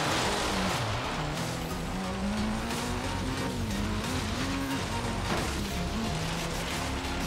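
A road car revving and straining over off-road rainforest terrain in Forza Horizon 3, loud continuous engine drone with shifting pitch and tire noise throughout, no talk over it.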